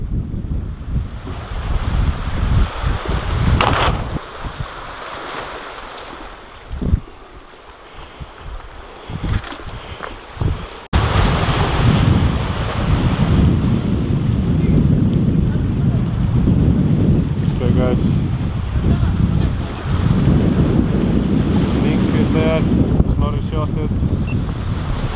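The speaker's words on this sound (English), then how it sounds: "pretty big waves" Big ocean waves surge and wash in strong wind on the coast of Iceland's Westfjords during a mink hunt with dogs, continuous heavy surf with wind buffeting the microphone, louder and denser after a short lull.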